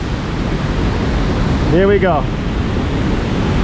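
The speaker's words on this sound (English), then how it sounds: "we're gonna head under this waterfall right now" Waterfall at Tahquamenon Falls State Park, Michigan, roaring heavily and constantly at close range, with a person briefly speaking over the rush of water.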